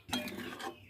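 A metal lid is set back over a cooking pot after stirring, giving a short close clink and scrape, faint and lasting under a second, with no voices.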